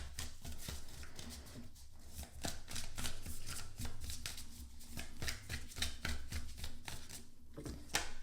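Tarot cards being shuffled by hand, a steady run of soft riffling and slapping card sounds repeating close by over a low background hum.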